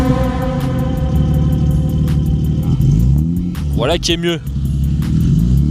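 BMW E30 with a new double exhaust line fired up, its engine starting and settling into a loud, steady low rumble with a brief rev near the end, while people talk over it.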